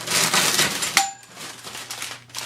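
Sections of metal stove pipe, flared at one end, clank against each other with a sharp ringing metallic hit amid scraping and handling noise, close by and fairly loud.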